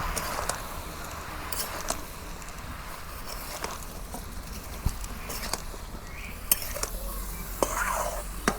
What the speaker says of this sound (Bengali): এখন এখন নাড়াচাড়া করে আমি ঢাকা দিব